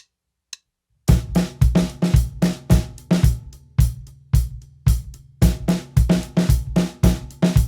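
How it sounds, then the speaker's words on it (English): Drum kit played in a four-on-the-floor pattern, steady punchy bass drum hits with a snare backbeat, loud and rhythmic after a single early tap, no voices. "When I play the 4 on the floor and only play my left hand part, so the snare part, it will sound like this."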